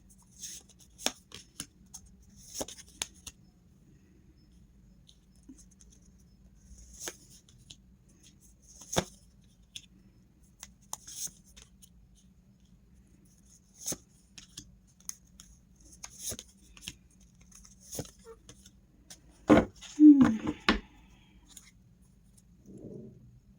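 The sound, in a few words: drawing and shuffling tarot cards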